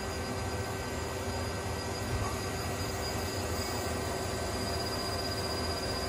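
A 2007 Mazak QTN100 II lathe runs with its spindle at 1,000 RPM, giving a steady broadband mechanical hum and whir with faint tonal lines, constant and close, with no talk.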